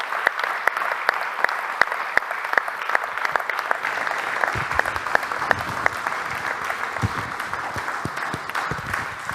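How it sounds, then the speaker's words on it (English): An audience in a conference hall applauds after a panel debate on Industry 4.0 and digitalization in Europe, with steady, dense clapping from many hands that holds for the whole stretch and thins slightly toward the end. "I think we've earned a round of applause."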